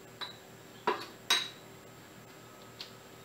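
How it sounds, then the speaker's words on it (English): Cocoa powder, baking soda and baking powder mixed together in a bowl, with a few sharp clinks of a utensil against the bowl, spaced unevenly and quiet, over a faint background hum. "just mix those together until they're also well combined"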